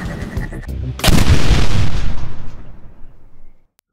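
A loud booming explosion in the puzzle game Bridge Constructor Portal bursts out after a second of game noise, then a long rumbling decay fades to silence.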